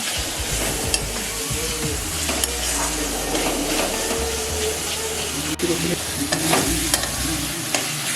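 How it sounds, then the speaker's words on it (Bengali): Onion and spice paste for a fish curry being fried and stirred in oil, a bright continuous sizzle with frequent scraping spatula strokes and occasional clinks against the pan, close and loud. "মিশিয়ে এবার কষিয়ে নেব অনেকক্ষণ পর্যন্ত, যতক্ষণ না পর্যন্ত এই মশলা থেকে তেল ছাড়বে ততক্ষণ পর্যন্ত আমি এটাকে কষিয়ে নেব"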